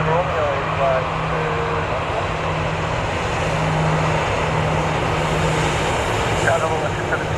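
Boeing 737 jet engine at Calgary International Airport, a loud steady broadband roar that holds throughout, with radio voices talking over it.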